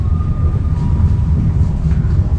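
Local Walahar commuter train pulling into Cikarang station in Bekasi, Indonesia; a loud, continuous low rumble and rolling clatter close by, with a faint whining tone over it and no voices.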